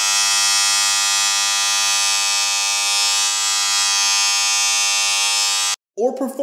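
A Wahl trimmer running on a 220V to 110V voltage converter gives a loud, steady electric buzz for several seconds, then cuts off and a voice begins.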